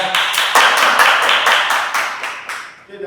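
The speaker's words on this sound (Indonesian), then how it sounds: "Tepuk tangan untuk kelompok 2 ya." Classroom applause for a student group after their presentation, several students clapping together in a quick, steady rhythm for about three seconds, close and moderately loud, with no talking over it.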